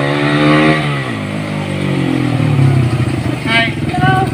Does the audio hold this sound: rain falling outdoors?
no